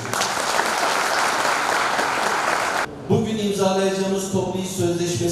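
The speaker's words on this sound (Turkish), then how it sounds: "Kendisini hep birlikte alkışlıyorum" An audience claps at a collective labor agreement signing at Malatya Metropolitan Municipality. Dense applause fills the first three seconds and then stops abruptly, and a man's amplified speech follows.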